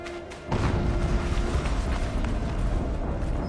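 Explosion in the video game Horizon Zero Dawn: a sudden deep boom hits after half a second, then a loud, sustained rumbling roar fills the rest of the moment.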